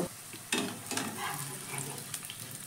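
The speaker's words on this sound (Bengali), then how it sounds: "একটু কাজুর সঙ্গে কিশমিশটা একটু ভেজে নেব" Brief close-up sizzle of cashews and raisins frying in hot oil, with a few sharp scraping stirs and crackles.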